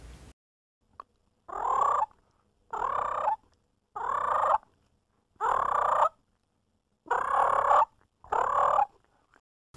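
Wild turkey calls recorded cleanly in a studio, six separate bursts of gobbling and clucking yelps with short silent gaps between them, close and clear with no background noise.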